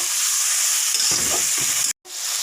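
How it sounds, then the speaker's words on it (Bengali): Spices for prawn curry, with chilli powder and a little water, sautéing in a pan: a dense, close sizzle with a few stirring scrapes, broken by a brief gap near the end. "জল দিয়েছি কষানোর জন্য। কিছু সময় কষিয়ে নেব।"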